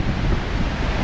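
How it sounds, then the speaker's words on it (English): Strong wind on a Pacific Ocean beach roars across the microphone as a loud, steady, broadband rush, with the surf blending into the blustery noise and no voices. "Very windy out here"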